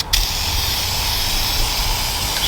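A spray can of primer hisses steadily onto a V6 engine in one continuous, close, loud burst lasting the whole moment, with no talking.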